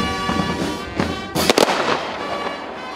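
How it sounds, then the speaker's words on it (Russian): Several sharp ceremonial salute firework bangs at a Victory Day commemoration ring out in quick succession, loud and booming, with crackling echoes trailing between them. "звучит памятный салют"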